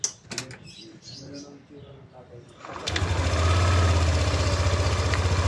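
A Yamaha NMAX v2 scooter engine starts after a few seconds of quiet handling noises, then settles into a steady, close, loud idle with a fast pulsing hum.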